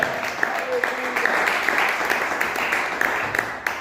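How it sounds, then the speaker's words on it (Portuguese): Church congregation applauding during an evangelical service, steady dense clapping throughout, with voices mixed in under the applause. "Aplauda o nome do Senhor Jesus."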